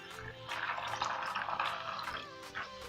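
Water pours steadily into a container of salted raw peanuts for soaking, a splashing, gurgling rush, continuous for a few seconds at close range.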